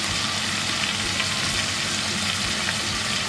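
Eggplant, string beans and minced pork stir-fry in a hot pan with a loud, dense sizzle and scraping stirring noises, continuous and close, with no talking.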